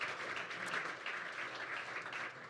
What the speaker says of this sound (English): Give another round of applause for Ellen.